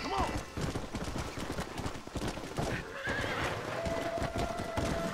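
In the Red Dead Redemption video game, a horse whinnies and clip-clops along at a gallop, with rapid hoofbeats and a rising neigh at the start, while a player talks over it.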